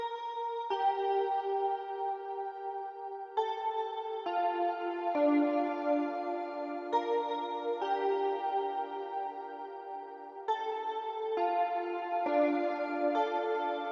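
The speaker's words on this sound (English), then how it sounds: "we are using Nexus, the Splits and Sequences Solitude preset," Notes from the Nexus synth plugin using the Splits and Sequences Solitude preset: a sustained, bright pad-like tone moving through a sequence of chord changes, smooth and continuous with no talk.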